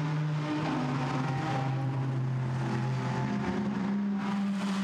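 GT race car engines at Monza in Gran Turismo Sport, a Blancpain GT Sports Club race, droning and shifting pitch as cars accelerate, steady and moderately distant.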